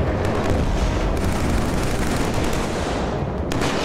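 Dense, continuous machine gun fire and explosions from the Killzone 3 video game, loud and chaotic with rapid overlapping bursts throughout and no pauses.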